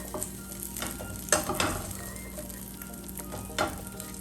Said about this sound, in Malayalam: ഒരു ഇച്ചിരി കൂടെ ബട്ടർ ചേർത്തിട്ട് ബാക്കിയുള്ളത് കൂടെ നമുക്കിങ്ങനെ വറുത്തെടുക്കാം